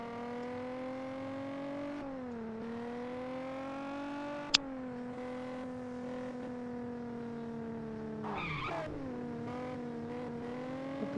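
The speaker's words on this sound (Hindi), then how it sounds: "चलो गाइस इसकी टेस्ट ड्राइव करते हैं" A limousine engine hums steadily during a test drive in the video game Gangster New Orleans, its tone rising and falling with throttle, with a sharp click near the middle and a brief tire scrub or skid late on.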